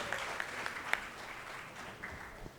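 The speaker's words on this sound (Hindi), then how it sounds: "जोरदार तालियां हो जाएं जूनियर बिग बी के लिए।" Audience applause at an awards event, a brief burst of scattered clapping from a crowd, moderately loud and close, fading after a couple of seconds.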